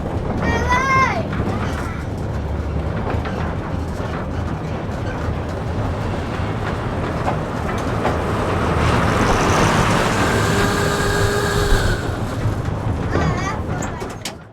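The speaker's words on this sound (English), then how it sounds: "The driver decided to move the locomotive over to the station itself." A locomotive on the Glen Afton heritage railway line moves toward the station, producing a loud, steady rumbling engine and wheel noise that swells in the middle. A short whistle-like tone sounds at the start and voices can be heard briefly.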